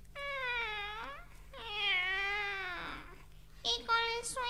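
A cat meows in a Spanish-language Christmas children's story, giving two long, drawn-out wavering meows followed by shorter, higher cries, close and clear.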